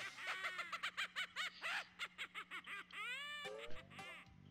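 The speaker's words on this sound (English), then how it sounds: "And there goes the bird." A cartoonish bird in the Banjo-Kazooie video game squawks in quick chattering bursts, with rising, warbling calls that end in a loud screech, heard alone and fairly quiet.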